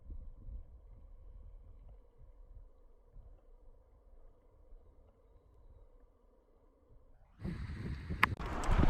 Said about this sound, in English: that wind is sharp this evening